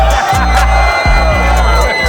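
A large crowd at a Gumball car meet cheers and whoops loudly, a dense, continuous roar of voices with shouts rising over it and low engine rumble beneath.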